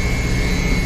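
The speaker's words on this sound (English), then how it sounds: "the propeller is throttling very fast" A fishing boat's propeller engine throttling fast on an overnight tuna trip in the Gulf of Mexico, heard as a brief, steady, loud droning roar with no voices.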